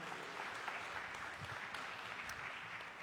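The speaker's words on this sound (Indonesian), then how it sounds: "kasih tepuk tangan buat mereka" Congregation at a Sunday church service applauding the care group leaders, a steady wash of clapping from a crowd at moderate distance, with faint voices mixed underneath.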